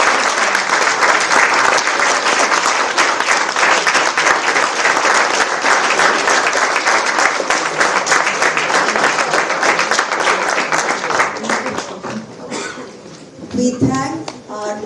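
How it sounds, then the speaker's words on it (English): Loud, sustained applause from a conference audience for student volunteers at a valedictory session, dense clapping filling the room before dying away near the end as voices come through. "we want to give you a big round of applause"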